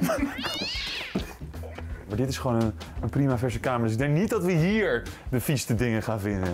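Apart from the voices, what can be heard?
cat meowing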